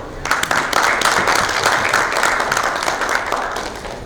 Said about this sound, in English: Can we have a big round of applause for Ms. Shobha?